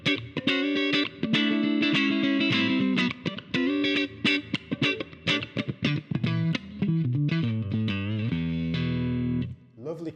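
Electric guitar played through a Roland Micro Cube GX amp with volume up and master down for heavy breakup, low tone and little reverb, giving compressed, sustained distorted chords and note runs played steadily and loud without talk.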